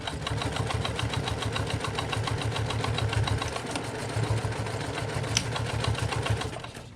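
A sewing machine runs steadily through a tote bag seam, back stitching at the start, a fast even whirring needle rhythm held close and loud for about seven seconds, with a brief change in pace midway.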